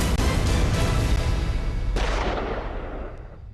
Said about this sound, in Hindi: पक्कू, नासिर, वहीद, निकाल पिस्तौल, मार गोली साले को।